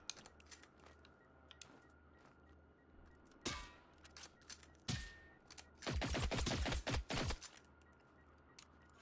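Gunfire in the video game Generation Zero: scattered single shots, then a dense burst of rapid rounds near the end, loud and close against a low steady in-game background hum.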